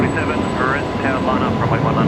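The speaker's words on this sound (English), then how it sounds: "that was Qantas 135 heading to Christchurch this evening" Qantas 135, a jet airliner departing Brisbane Airport in the evening, roars loudly and steadily nearby with a thin high whine on top, while a voice speaks over the engine noise.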